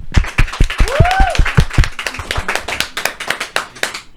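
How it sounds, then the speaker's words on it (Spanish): Applause at a Christmas special livestream, a small group clapping close and loud, the individual hand claps distinct and uneven, with a brief high whistle-like tone partway through. "Despedimos con un fuerte aplauso a Biel"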